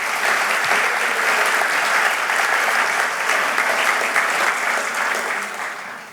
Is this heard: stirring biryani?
no